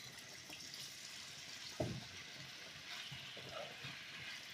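Chicken cutlet meat frying in a pan, a faint steady hiss of sizzling oil running throughout, with one brief soft knock partway through and no talking.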